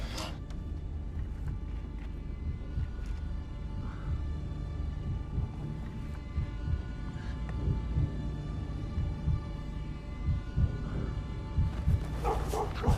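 Several dogs bark in scattered, irregular yips and woofs over a dense, rumbling background din, at moderate distance.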